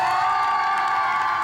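A crowd at an Army versus Navy night in a church cheers and whoops for the Army team, a short, full burst of many voices yelling and shouting together, mid-distance and sustained with no pause.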